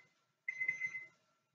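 Kitchen timer going off during home cooking of a chicken dish, a single short ringing burst of about half a second, faint and alone with no talking.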